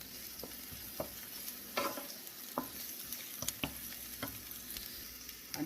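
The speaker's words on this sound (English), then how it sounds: "Toast your onion for just 60 seconds" Onion toasting in a pot for a beef meat pie filling, a soft continuous sizzle with scattered crackles and occasional scraping stirs, fairly quiet and close, no talking.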